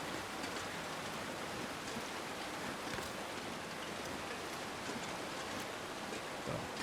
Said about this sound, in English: Alright, another waterfall.